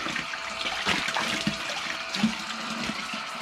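Water pumped from a tap gushes steadily, a constant splashing rush that fills the whole moment at close range.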